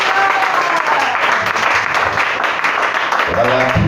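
A church congregation at a worship service applauds with dense, steady clapping close by. A voice starts speaking over the clapping near the end.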